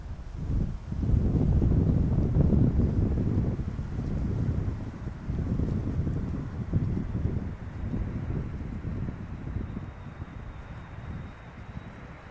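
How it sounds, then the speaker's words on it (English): Strong crosswind of around 15 knots blowing across the runway at Schiphol airport, heard as loud, gusty buffeting rumble on the microphone that eases somewhat toward the end, with a faint steady whine in the background and no talking. "The wind is blowing perpendicularly to the runway heading today"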